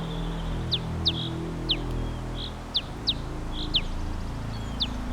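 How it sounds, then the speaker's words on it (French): Short bird chirps repeat at irregular intervals over a steady low background hum, several calls spaced a second or so apart. "me dites pas que vous suivez le son des oiseaux"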